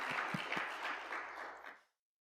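Applause from a church congregation during an Easter service, a dense broadband wash of clapping with a few louder claps at the start, holding steady for about two seconds before cutting off abruptly into silence.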